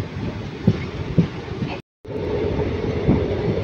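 The Mannai Express rolls away from Chengalpattu Junction, a steady rumble and clatter heard from inside the coach, with a few sharp wheel knocks and a brief dropout midway.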